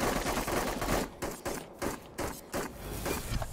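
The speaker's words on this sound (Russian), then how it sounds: "Да кто по ним стреляет?" Gunfire in the video game The Cycle: dense rapid bursts of shots close by, broken by short gaps, with loud continuous crackle throughout.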